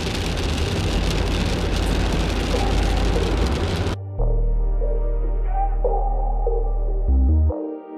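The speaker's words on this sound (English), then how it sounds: "Once we got high up into the mountains, it started to rain" Steady rain falling high in the mountains, a dense even hiss that cuts off abruptly partway, replaced by a low droning hum with faint tonal sounds.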